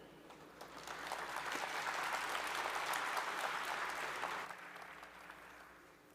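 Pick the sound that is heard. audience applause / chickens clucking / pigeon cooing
audience applause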